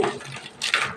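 Dry sun-dried tomato pieces for pickle rattle and clatter inside a container in short bursts, the loudest shaking coming near the end, close and crisp.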